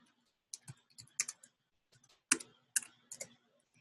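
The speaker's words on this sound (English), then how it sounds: "let's just type the word fitness" Scattered keystrokes on a computer keyboard as a search word is typed, quiet and close, coming in short uneven clusters with pauses between.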